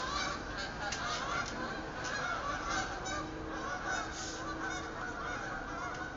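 A flock of geese honk continuously over a steady outdoor wash of noise, many overlapping calls carrying throughout at moderate loudness.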